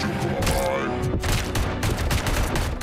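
Dense, rapid gunfire rattles in overlapping bursts during a Robocop: Rogue City firefight, loud and close with only brief gaps between volleys.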